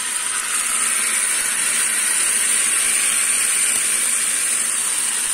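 Rava roti batter hisses steadily as it sizzles in hot oil, a loud, even frying noise that holds without pause.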